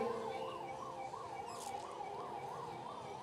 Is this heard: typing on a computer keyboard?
no